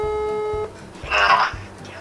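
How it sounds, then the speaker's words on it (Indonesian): A WhatsApp call ringing tone: a short, steady electronic tone sounds for about half a second, then cuts off, followed by a brief noisy burst and low rumbling in the background. "Telpon WhatsApp."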